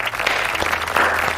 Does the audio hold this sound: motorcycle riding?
no